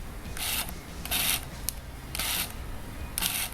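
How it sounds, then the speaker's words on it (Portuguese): The autofocus micromotor of a Canon 50mm USM lens whirs in four short bursts, each a dry, raspy buzz under half a second long, heard close against a faint steady background hiss. "Agora a gente vai ouvir a 50mm, que também é USM, mas ela tem um micromotor. Olha o barulho que ele faz."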